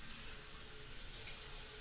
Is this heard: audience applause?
no